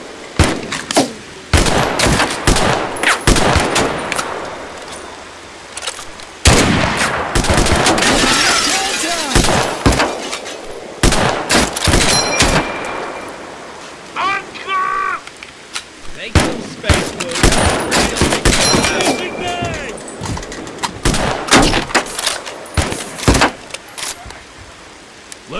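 In Mud and Blood, gunfire crackles in loud bursts of rifle and machine-gun fire with sharp shatters and short gaps between volleys, while voices shout over the battle.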